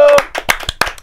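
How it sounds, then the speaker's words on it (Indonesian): A handful of people clap for two guests at a youth talk show, a few loud, sharp, close claps in an uneven burst that quickly thins out. "Tepuk tangan dulu untuk kedua narasumber aku."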